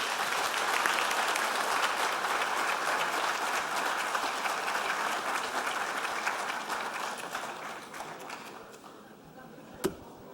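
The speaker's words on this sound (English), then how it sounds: "let's finish with a big round of applause for Bob Byer." Loud, dense applause from a large crowd carries on for several seconds, gradually thinning and fading out, ending with one sharp tap.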